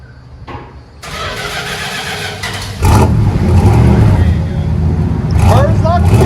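A 1987 Dodge Ram V8 with Flowmaster Flow FX dual exhaust fires up and settles into a deep idle, then gets a loud throttle blip close by, with some talk under the engine.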